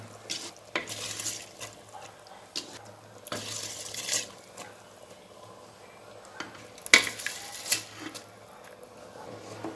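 Washed basmati rice going into a pot of mutton biryani, with repeated scraping, stirring and clattering against the metal pot in bursts over a quiet background hum.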